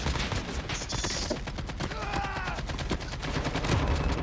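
Rapid gunfire from a battle royale shooter game, a dense continuous fusillade of shots and automatic bursts layered with game effects and faint background voices.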